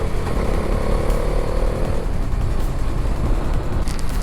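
A Bajaj Dominar 400 motorcycle running steadily on a highway before dawn, a loud continuous engine drone with wind rush and no pauses.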